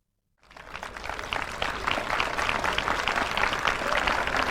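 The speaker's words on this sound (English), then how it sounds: "Mr. Quayle comes off the hill to a round of applause" Outdoor crowd applause at the Tynwald Day open-air ceremony as a man comes off the hill, starting abruptly after a brief silence and holding steady as a broad, continuous patter of many hands.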